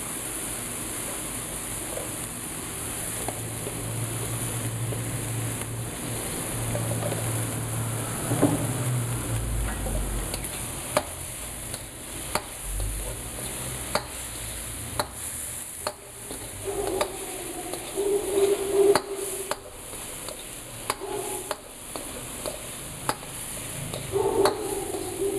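Shrimp and sea bass fry in oil in a pan, giving a steady soft sizzle throughout, broken by occasional clicks and scrapes of stirring.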